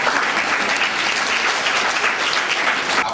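Students at a college event applaud in a steady, dense clapping burst lasting a few seconds, close and uniform without talk over it.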